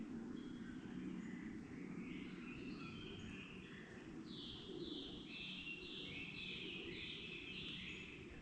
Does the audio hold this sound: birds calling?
yes